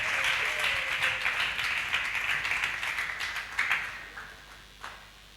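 A church congregation applauding at a seminar service, a dense, steady wash of many hands clapping that thins and fades toward the end, with no talk over it.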